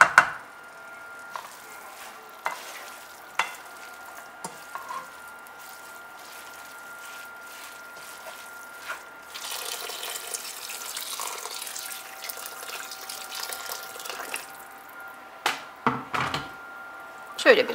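A spoon knocks and scrapes in a pot of spiced stew with chili flakes, the taps scattered and sharp, then water pours in for several seconds before a few more clinks and stirs.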